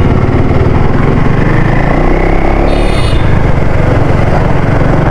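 A 2024 KTM Duke 390 motorcycle's engine runs steadily and loudly throughout, a dense continuous drone with a brief higher-pitched whine partway through, with no talking.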